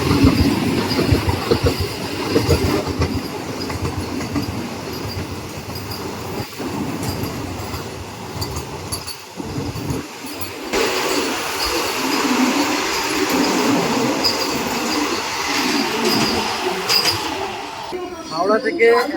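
The Puri–Howrah Vande Bharat Express rushes past with a loud, continuous roar of wheels and rail clatter, steady throughout with some squealing, heard from close by.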